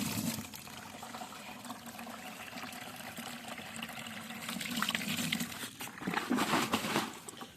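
Water being poured out of a bucket onto two banyan bonsai trees, a steady splashing rush that swells louder near the end.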